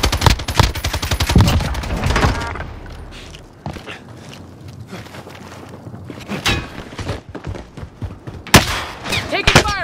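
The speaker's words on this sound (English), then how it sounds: "Taking fire over here!" Call of Duty: Modern Warfare gunfire, a loud fusillade of rapid shots that thins into scattered bangs and thuds, with voices heard between the shots.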